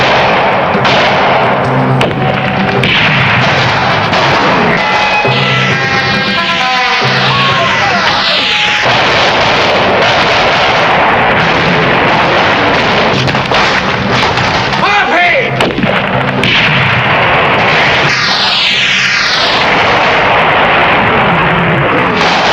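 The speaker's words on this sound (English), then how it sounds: "Bazooka here to cover the others." Bazooka fire and explosions in a classic Doctor Who serial, The Web of Fear, make a loud, dense barrage of booms and blasts with streaking whooshes, sustained throughout.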